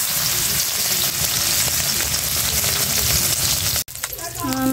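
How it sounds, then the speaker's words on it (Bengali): Fish frying in hot oil, a dense continuous sizzle and crackle that stays loud and steady, then briefly drops out before resuming with clinking kitchen sounds and faint tones. "তেল গরম হয়ে গেছে, কারণ মাছটি দিয়ে দিব।"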